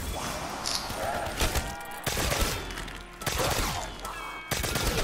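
Gunfire from shooting zombies in the video game Call of Duty Black Ops III comes in about three bursts of rapid shots, loud and close, with brief gaps between them.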